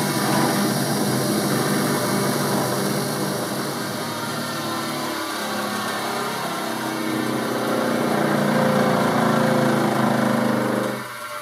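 A bench grinder fitted with a new grinding wheel is switched on and runs with a steady loud motor whine, continuous for several seconds before dropping slightly at the end, with no talking.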